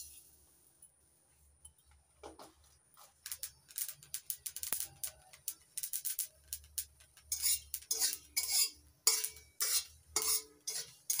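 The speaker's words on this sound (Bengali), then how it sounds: "কালো জিরেগুলো একটু নাড়াচাড়া করে দিচ্ছি" Half a spoon of black cumin seeds dry-roasting in a hot kadai, stirred with a spatula: quiet at first, then rhythmic scraping and rattling strokes that grow louder and quicker, close by.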